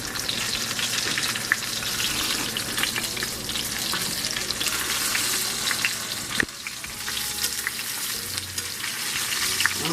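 Steady loud sizzling and crackling of chicken frying in a hot pan, with occasional stirring scrapes, close up and without talk.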